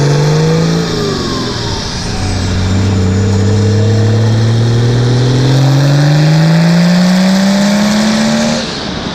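A 1983 Volvo 760 with the D24 turbodiesel engine revs hard, its loud droning note climbing steadily in pitch over several seconds before cutting off, close and dominant with no voices.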